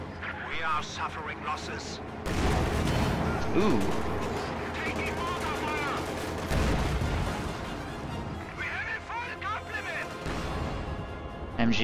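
Gunfire and explosions in a Company of Heroes match with an MG42 machine gun in action, quiet at first then a sustained loud stretch of battle noise under steady commentary.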